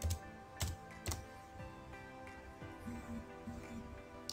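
Keys clacking on a computer keyboard as a website name is typed into a search box, a few separate keystrokes spaced irregularly against quiet background hum.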